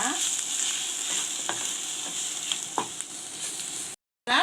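A spoon scrapes and stirs spices and paneer in a frying pan over steady sizzling, with a few distinct scraping strokes, close up, and then a brief cut to silence.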